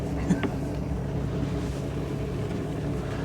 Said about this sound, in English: This engine just runs like a sewing machine.